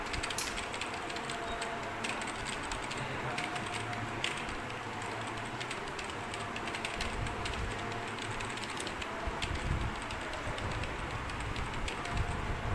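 Typing on a computer keyboard, a steady stream of fast, light key clicks going on throughout against a constant background hiss, with no talking.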